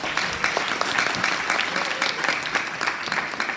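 An audience at an NGO launch ceremony and health forum applauds steadily, a dense, even wash of clapping lasting several seconds with no talk over it.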